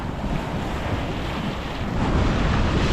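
A light breeze of about 5 or 6 knots blows over open water at the Straits of Mackinac, a steady broadband rush of wind noise with waves that swells slightly louder toward the end.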